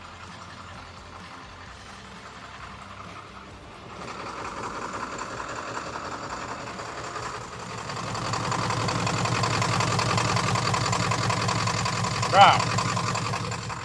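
Diesel engine idling at about 600 RPM with air being bled from the fuel system, a steady low chugging that grows louder and busier, with a brief spoken exclamation and a sharp knock near the end.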